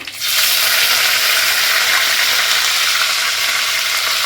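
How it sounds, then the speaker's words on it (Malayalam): Loud, dense crackling and sputtering of mustard seeds popping in hot oil, continuous and close after a brief quiet start. "കടുക് പൊട്ടി വന്നിട്ടുണ്ട്"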